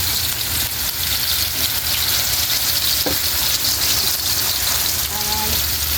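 Pinakbet vegetables stirred in a pan, a loud steady sizzle and frying hiss filling the whole stretch with faint scraping of the spoon underneath.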